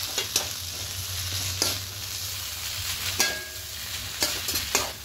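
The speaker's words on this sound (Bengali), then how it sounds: "এবার সবটা মিশিয়ে নেব।" Egg chow mein with vegetables and sauces being stir-fried: a steady, close sizzle broken by sharp, irregular scrapes and clacks of the spatula tossing noodles in the pan, with no voices.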